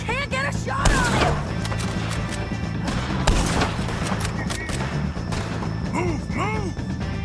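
Gunfire in Red Dead Redemption 2, a few sharp, loud shots scattered amid game chaos, with voices shouting over the noise.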